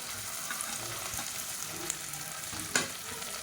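Sliced onions frying in hot oil in a pan for a lunch box dish alongside mint and coriander, giving a steady soft sizzle with occasional brief stirring clicks, close and moderately quiet, no voices.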